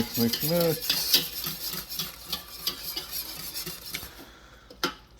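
Gravy sauce being stirred in a pan for biscuits and gravy, utensil scraping and clinking against the pan in quick repeated strokes with faint sizzling, close and moderately loud.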